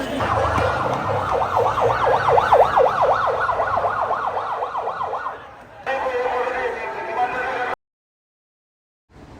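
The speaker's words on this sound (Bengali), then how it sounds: "প্রতিটা মিনিটে মিনিটে একটা একটা করে অ্যাম্বুলেন্স আসতেছে" Ambulance sirens wail in a steady rising-and-falling pattern as ambulances arrive one after another at a hospital in Jashore, loud and close at first, then a second siren continues briefly before the sound cuts out.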